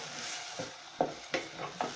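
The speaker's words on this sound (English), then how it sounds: "stir a bit" Rice being stirred in a frying pot on the stove, a few soft scraping strokes over a faint steady sizzle, close and quiet with no talk.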